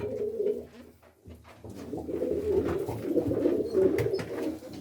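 Pigeons coo in a loft, soft throaty murmurs that rise and fall continuously from several birds close by.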